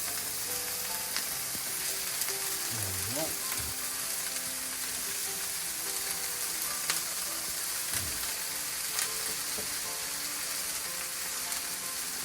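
Faint steady sizzle of cabbage with fennel seed cooking in a pan, with a few soft scrapes and clinks of stirring scattered through the quiet, even hiss.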